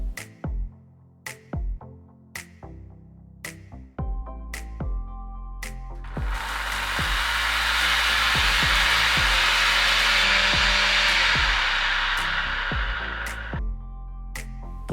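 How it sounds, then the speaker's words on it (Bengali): A kitchen mixer grinder dry-blends mustard seeds, poppy seeds and a few green chillies, a loud steady whirring roar lasting several seconds after a series of sharp clicks and taps. "তারপর মিক্সির জারের ঢাকনাটা আটকে দিয়ে প্রথমে এটাকে আমি শুকনো অবস্থাতেই কিছুক্ষণ ব্লেন্ড করব।"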